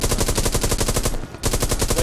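Machine gun fire in Hell Let Loose, a World War II combat game: loud, rapid sustained bursts of evenly spaced shots, briefly pausing before the fast rattling resumes, close and dominant throughout.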